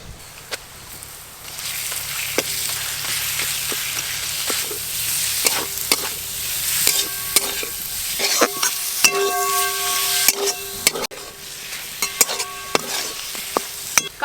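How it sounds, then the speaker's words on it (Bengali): Boiled, deboned rohu fish frying with spices, ginger, garlic and onion in a pan, a steady sizzle with repeated scraping and stirring knocks from a utensil, close and continuous with no talk. "কাটা ছাড়িয়ে রাখা মাছ মশলার সঙ্গে বেশ ভালো করে একটু ভাজা ভাজা করে নিয়েছি।"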